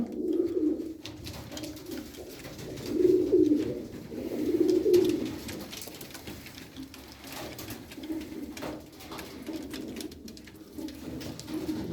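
Iraqi-origin pigeons coo softly in repeated low, throaty bursts, close by, with faint rustling between calls.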